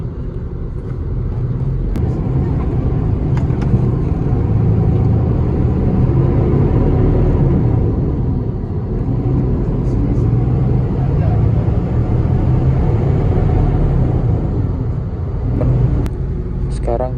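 An intercity bus travelling the road from Jogja to Jakarta gives a loud, constant low rumble of engine and road noise heard from inside, with people talking over it throughout.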